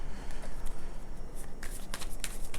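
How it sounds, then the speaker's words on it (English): Close, continuous riffling and flicking of a deck of tarot cards being shuffled, with soft crisp snaps over a rustling bed. "I shuffled the shit out of these cards"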